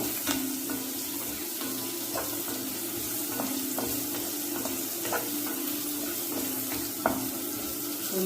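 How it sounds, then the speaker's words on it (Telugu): Chopped onion frying in a pan, a steady hiss of sizzling with faint scattered clicks and taps of stirring, continuous and close, no voices. "ఇప్పుడు నేను ఉల్లిపాయ ముక్కలు ఇట్లా కట్ చేసుకున్నాను ఒకటే తీసుకున్నాను అది కొంచెం బ్రౌన్ కలర్ వచ్చేంత వరకు వేయించుకోవాలి"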